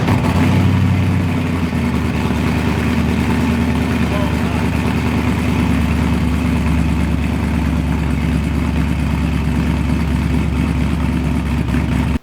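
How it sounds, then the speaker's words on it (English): A Porsche 914 fitted with an EMPI MagnaFlow exhaust with cutouts rumbles steadily and loudly, its low engine drone holding throughout while people talk over it. "If you enjoy a little thrumble, a little rumble in your 914"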